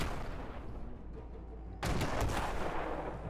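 Cannon fire in the video game Airships: Conquer the Skies starts partway through as a dense, loud volley of rapid overlapping blasts, following a lower background rumble, with no voices.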